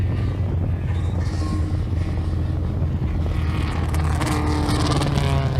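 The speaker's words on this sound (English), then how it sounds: "van Tonder flicks the 47 car's tail around as he heads back out onto the circuit again, and so does the 117 with the front bumper coming loose there of Jared Baton." Race cars, including a damaged car with a loose front bumper, heading back out onto a racing circuit, a loud continuous engine roar that builds and shifts in pitch, heard alone.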